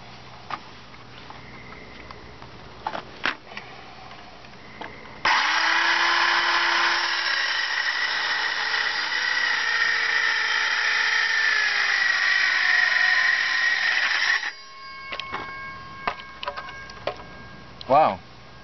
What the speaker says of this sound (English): this, people, is why I don't cut wood with this saw for firewood